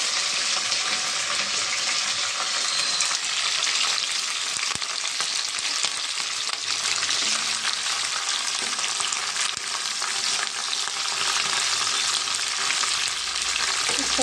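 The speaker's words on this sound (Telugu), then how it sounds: "తర్వాత ఎండి చేపలు వేసుకున్నామండి. కొంచెం పచ్చివాసన పోయేదాకా మనం ఫ్రై చేసుకున్నాం." Dried fish fries in a pan for a curry with eggplant, a dense continuous sizzle and crackle of hot oil heard up close, with occasional faint stirring scrapes and no talk.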